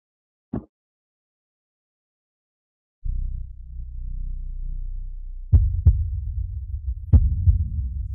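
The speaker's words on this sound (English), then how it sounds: "The heartbeat is indeed faster." An accelerated heartbeat sound effect plays during a tense high-stakes casino gambling showdown. Steady, loud low thumps pulse over a deep droning hum after a single early thud.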